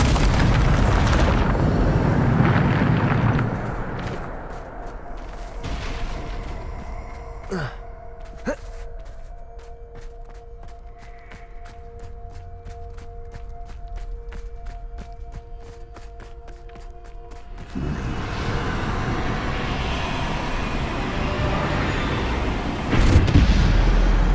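Bombarda explosion spell cast in the video game Hogwarts Legacy: a loud opening blast, then a quieter stretch of sharp repeated cracks and ringing tones, ending with another loud burst of booming rumble.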